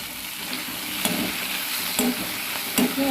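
Curry leaves and small gooseberries sauté in a hot pan for black sesame chutney, giving a steady sizzle broken by a few sharp stirring scrapes and clinks close by, with no voice.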